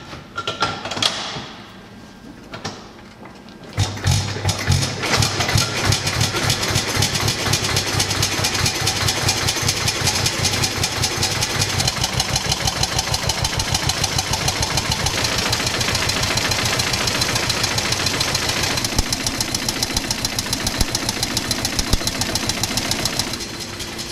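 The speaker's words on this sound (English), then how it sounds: "Using the starting handle, I'm going to crank the engine over and flick on the ignition" A few starting-handle cranks give way to an 1899 Wolseley 3.5hp voiturette engine firing up and settling into a loud, rhythmic, chugging idle that runs on steadily.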